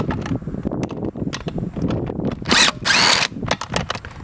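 An impact driver with an Allen head bit, extension and adapter backs bolts out of a Moto Metal chrome wheel, giving close, loud bursts of whirring and rattling impacts with short pauses between them.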